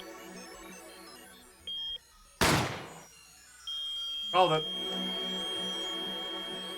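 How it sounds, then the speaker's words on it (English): A single sharp gunshot rings out in the courtroom video game Apollo Justice: Ace Attorney, a sudden loud blast between short electronic chimes and game tones, with a voice speaking briefly. "Didn't expect the gunshot."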